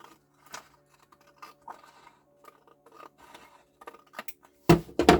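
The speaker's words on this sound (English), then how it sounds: "So I'm just gonna cut those first 3 lines off." Scissors snip rows off a bullet journal page: several short, quiet cuts and paper scrapes spaced irregularly, close up, ending in a louder burst of rustling paper.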